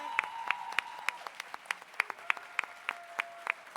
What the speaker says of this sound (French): Est-ce qu'on pourrait applaudir, s'il vous plaît, toute l'équipe de la technique?